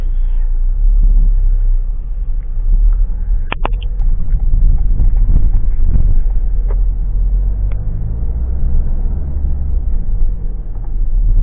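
A car with hand-operated accelerator controls pulls away in drive, a loud close low rumble from inside the cabin with faint clicks and knocks, steady throughout and without speech.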